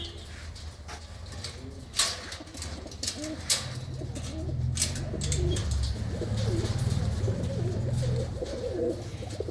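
Soft, throaty pigeon cooing repeats in low rolling phrases, close by, with a few sharp clicks and knocks scattered over it.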